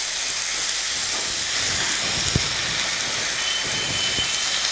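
Eggplant pieces and green chilies fry in a pan for Andhra vangi bhaath, giving a steady, dense sizzling hiss that runs unbroken throughout, with a few soft knocks.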